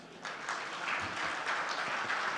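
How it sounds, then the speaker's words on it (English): A conference audience breaks into a round of applause, steady crowd clapping that starts after a brief quiet moment and keeps going at an even level. "this historic moment calls for a much bigger round of applause"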